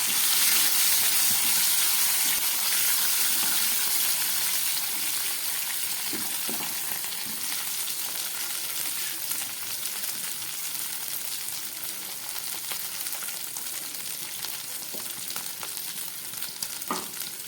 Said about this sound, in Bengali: এবার এর মধ্যে আমি এই সিদ্ধ করা আলুটাকে দিয়ে দিচ্ছি